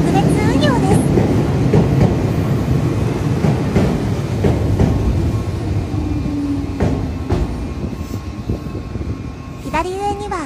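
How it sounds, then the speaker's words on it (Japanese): A Meitetsu 1800 series electric train running on the Airport Line, heard up close as a continuous loud rumble with rail clatter and brief squeals, plus a rising motor whine near the end and faint voices in the background. "電車は1800系の運用電車で、こちらも特別運用です。"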